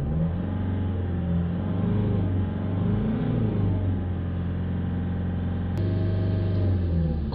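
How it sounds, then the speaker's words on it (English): A diesel engine runs after an oil change, holding a steady, loud idle rumble with a slight rise and fall in revs and a sharp click near the end, with no voices. "Okay, now we're going to run the engine again for a few minutes."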